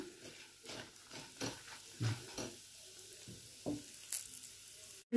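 Urad dal fries in a pan, a soft, close sizzle broken by several stirring scrapes, with a sharp clatter at the very end.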